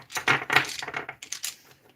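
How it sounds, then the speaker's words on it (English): A short burst of light wooden clattering and clicking as colored pencils are moved aside, several quick knocks close by, like pencils being shuffled and set down on a table. "I'll just move these pencils out of the way,"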